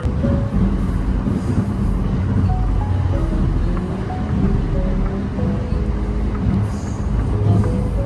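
Train rolling along the rails near Mt Nokogiri in Chiba, Japan, heard from inside as a loud, steady rumble with rhythmic wheel clatter and faint squeals, voices murmuring faintly beneath.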